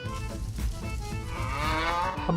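A dairy cow in the game Lineage Remastered gives a long, drawn-out moo that rises and wavers, close and clear with no talking over it.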